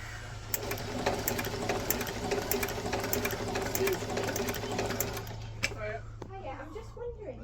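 A sewing machine in a cobbler's shop stitches a thinned leather welt onto an army boot sole, running in a steady, rapid, close rhythm for about five seconds before stopping, after which a voice speaks.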